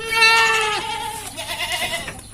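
Kacang goats bleat in a pen: one loud, close, quavering bleat at the start, then fainter overlapping bleats and farmyard shuffling.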